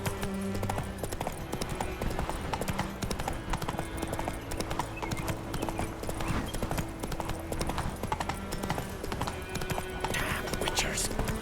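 Roach, Geralt's horse in The Witcher 3, gallops with steady, rapid clip-clop hoofbeats close by, set against constant game music and ambience, with a brief neigh and voices talking over it.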